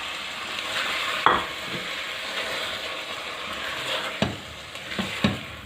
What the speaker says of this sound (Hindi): अब एक आध मिनट हम इसको भी भूनेंगे।